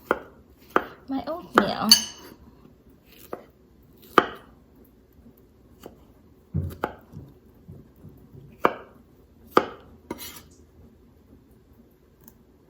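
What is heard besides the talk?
knife slicing strawberries on cutting board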